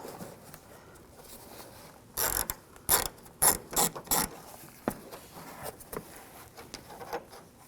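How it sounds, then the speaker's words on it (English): A hand ratchet with a T30 socket backing out a headlight bolt behind the inner fender well of a 2007-2013 BMW 328i, several bursts of sharp rapid clicking close to the microphone, separated by brief quiet gaps. "Use the same T30 socket. Take this bolt out."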